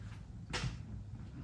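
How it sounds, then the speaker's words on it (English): A car door on a 2021 Subaru Forester Touring opens with a single short latch-and-swing sound near the middle, close by, over a quiet steady background. "if I open the driver's side door, it won't open any of the other doors"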